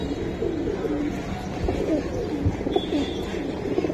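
High-flying Giribaz racing pigeons in Old Dhaka coo in low, soft murmurs over a steady outdoor hum, the calls overlapping close by.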